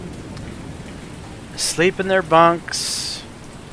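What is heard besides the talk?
rain on the sea at night in the video game War on the Sea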